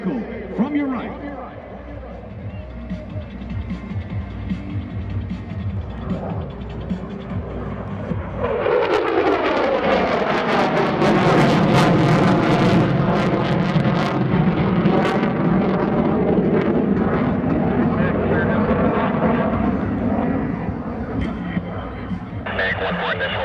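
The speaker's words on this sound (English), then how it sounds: "The F-35 inbound for the strike on the enemy vehicle from your right." An F-35 fighter jet flying in for a strike at a joint-forces airshow swells into a loud, sweeping roar with a rising and falling jet whine, while an announcer talks before and during the pass.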